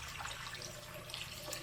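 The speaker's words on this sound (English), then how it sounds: "And then I'm going to add in my 3 cups of warm water." Warm water pours steadily into a bowl already holding oil, a soft continuous splash and trickle close by, quiet and alone.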